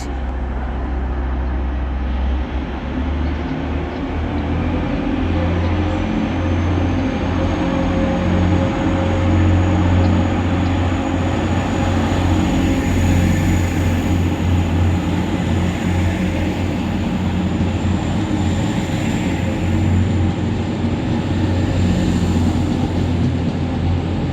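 A Northern Class 195 train pulls into Manchester Victoria station with a loud, steady rumble and hiss that lasts the whole time, and a faint high whine rides over it.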